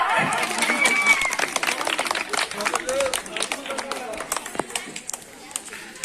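Children clap at a teachers' day gathering, scattered and uneven hand claps from a group rising and thinning out over several seconds, mixed with chatter and voices nearby.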